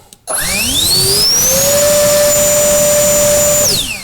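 A cheap Chinese turbo blower spins up after a brief quiet start and holds at its third, highest speed, a loud, steady high-pitched whine with rushing air that keeps on near the mic and then begins to wind down at the end.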